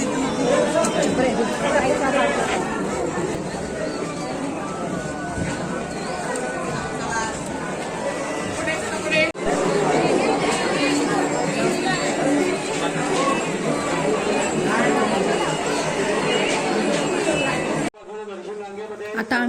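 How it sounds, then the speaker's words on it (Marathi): Dense crowd chatters nonstop at Shrimant Dagdusheth Halwai Ganpati darshan in Pune, many overlapping voices and shuffling close by, dropping abruptly to a quieter stretch near the end. "केवढी गर्दी आहे पहा"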